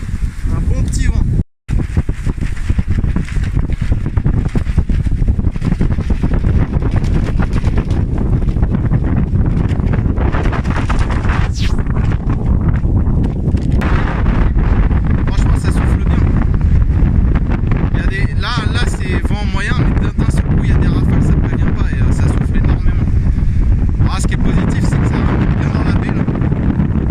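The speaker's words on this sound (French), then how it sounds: "Là il y a un vent, un bon petit vent" Strong wind buffeting the microphone out on Dale Hollow Lake during carp fishing, a constant loud roar and rumble throughout with a brief dropout near the start.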